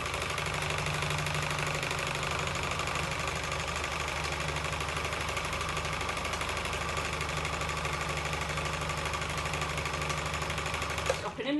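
A sewing machine stitches fabric with a steady, fast mechanical hum and rattle that runs evenly for about eleven seconds before stopping abruptly.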